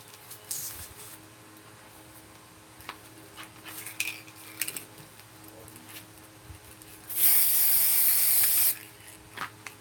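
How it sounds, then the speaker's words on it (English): Spray sealer is sprayed onto a deli paper craft in one steady loud hiss of about a second and a half, with small tapping and handling noises before it. "this one has got to have some spray on it because it's just not set"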